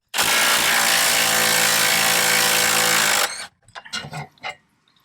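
A DCF923B impact wrench hammers loudly and continuously for about three seconds, breaking rusted rear strut bolts loose on a Dodge Grand Caravan, then stops, followed by a few brief clunks and scrapes.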